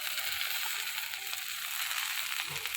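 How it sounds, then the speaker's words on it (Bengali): Shrimp frying with onion in a pan, giving a steady, broad sizzling hiss that holds at an even level throughout, with faint stirring noises underneath. "চিংড়ি মাছগুলো দিয়ে একটু ভাজি"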